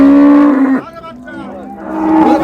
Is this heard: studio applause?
no